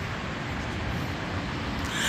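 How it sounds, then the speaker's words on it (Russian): Steady roar of car traffic beside a city park, a dense continuous rumble with no distinct passes and no talk. "все, как сказать, перекрывает рокот машин, шум машин"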